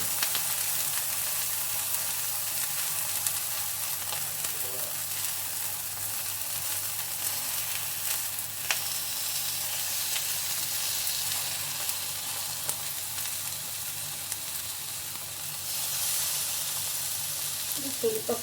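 Brinjal slices frying on a tava over a low flame give a steady, soft sizzle and hiss that runs evenly throughout, close by and without speech.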